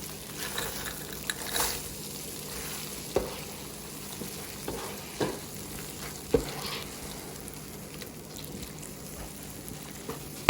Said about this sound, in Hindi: अब मैं इसमें मटर डाल रही हूँ।